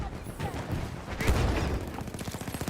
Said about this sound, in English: You keep loading up that mortar, man.